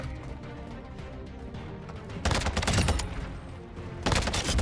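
Gunfire from a TAQ-V rifle in Call of Duty: Modern Warfare II comes in rapid automatic bursts, a loud stretch in the middle and another near the end, over quieter game ambience with no voices.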